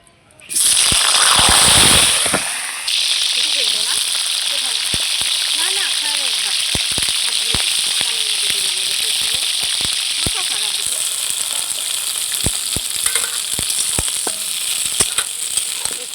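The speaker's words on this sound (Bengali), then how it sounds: "ফুলকপিটা আমি খুব সুন্দর করে ভেজে নেব।" Cauliflower florets fry in hot oil in a wok, with a loud, steady hiss and crackle that bursts up as they go in and then sizzles on continuously, with occasional clinks of stirring.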